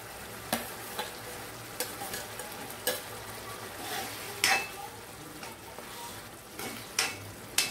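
Brinjal gravy bubbles and sizzles softly in a pot, with occasional stirring clinks and scrapes, close and fairly quiet.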